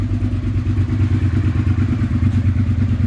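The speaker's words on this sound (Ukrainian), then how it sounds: "Мотоцикл холодний, оберти в районі 1000." A cold Suzuki SV650S motorcycle engine idles around 1000 rpm, a steady loud rumbling putter with a rapid, even beat and no talking.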